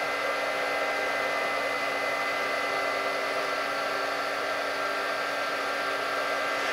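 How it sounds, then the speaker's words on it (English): A Gridseed G-Blade 5 Mh/s ASIC scrypt miner runs at full load, giving off a steady, loud fan whoosh with a constant whine and no variation or pauses. "And that is what the Gridseed G-Blade 5 Megahash ASIC Scrypt Miner sounds like while it's mining."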